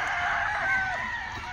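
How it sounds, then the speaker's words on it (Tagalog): Chickens and a rooster at a Philippine gamefowl farm, with crowing and clucking mixing into a steady, dense chorus of fowl sounds throughout. "Ayun, ang dami nilang manok."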